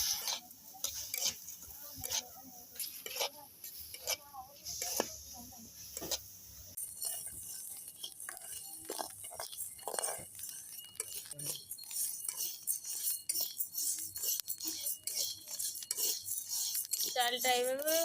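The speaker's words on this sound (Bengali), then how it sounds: "চালটা এভাবে অনবরত নেড়ে ছেড়ে ভেজে নেব" Salted raw rice is dry-roasted in a kadai and stirred constantly, giving close, irregular scraping and light clinking of grains and utensil against the pan that keeps going throughout.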